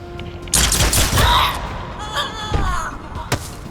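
Gunfire erupts in the video game Mutant Year Zero: a loud burst of sharp, overlapping shots over about a second, followed by a few quieter impacts and a final sharp crack.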